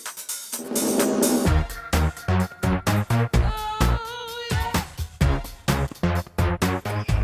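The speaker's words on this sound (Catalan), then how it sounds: "Fica la sintonia." A podcast theme jingle plays alone: a short upbeat musical tune with punchy rhythmic hits, a sustained tonal melody in the middle, and choppy stops and starts.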